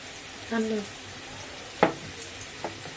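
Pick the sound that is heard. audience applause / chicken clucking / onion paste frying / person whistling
onion paste frying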